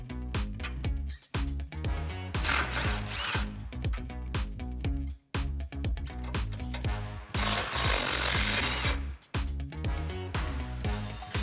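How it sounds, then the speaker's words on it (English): A 21mm socket on a ratchet or impact tool works cap nuts off the front frame rail of a 2007-2013 Chevrolet Silverado 1500, giving loud, close, rapid mechanical clatter in bursts with short pauses between. "So grab a 21mm socket, and let's get these removed."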